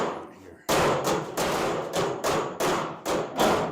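A hammer strikes sheet metal on a 1956 International pickup cab, about seven loud, close, ringing blows in a steady rhythm.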